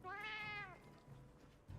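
A cat in Monster Hunter Wilds gives a single clear, rising-then-falling meow, close and fairly quiet, followed by faint background game sounds.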